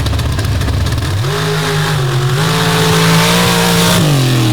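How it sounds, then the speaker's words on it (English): A dirt drag race car with a 612 cubic inch Oldsmobile engine roars loudly at a dirt drag strip. The engine pitch climbs sharply, holds a steady high drone, then dips slightly near the end. "She'll get a bye run here in the brand new Kryptonite, another racing in the dirt-built machine out of cold country, 612 cubic inch Oldsmobile power plant"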